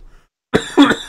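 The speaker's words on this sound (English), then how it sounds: "And I'm also still coughing" A person coughs twice in quick succession, close and fairly loud, after a brief silence, during a tabletop wrestling role-playing game session.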